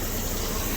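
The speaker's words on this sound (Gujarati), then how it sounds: "કેવડી ગરમ વરાળ નાખે જોઈએ." Hot steam hisses in a steady, loud rush from the exhaust of a BS-standard bus just after a completed DPF regeneration, a continuous broadband gush with no pauses and no talk.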